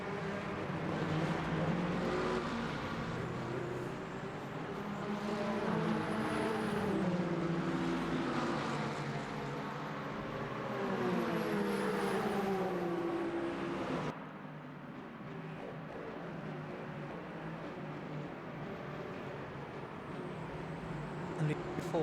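Race cars, including an Aston Martin, an Alpine and a Peugeot, charge toward turn 1 in Le Mans Ultimate, a continuous engine roar with shifting pitch and passing whooshes, under steady commentary from a man.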